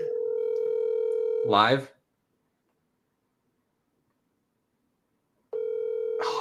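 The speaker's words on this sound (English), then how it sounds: "Phone call." A phone call's dial tone hums as a steady, loud tone, cuts off when a person says a word, then after a few seconds of silence starts again.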